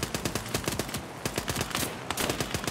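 Bursts of rapid automatic gunfire in Gates of Hell: Ostfront, USA versus USSR, sharp close shots in quick rhythmic strings with a short pause midway.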